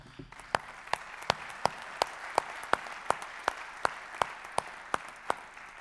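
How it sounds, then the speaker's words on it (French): In a congress hall, a faint wash of applause from the audience runs under a louder single set of hands clapping in an even, steady beat, about two or three claps a second. "je vais féliciter Hervé et toutes les équipes du DLR que je vous demande d'applaudir très fort."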